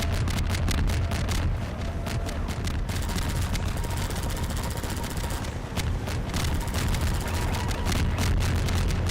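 Bombs dropping in a video game bombing run, a dense continuous barrage of sharp blasts and booming impacts, loud and relentless throughout.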